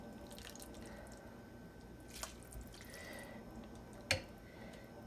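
Blanched green vegetables going from boiling water into a pot of cold water, with quiet sloshes and a couple of small splashes and drips over faint background.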